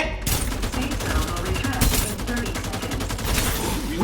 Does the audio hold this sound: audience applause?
no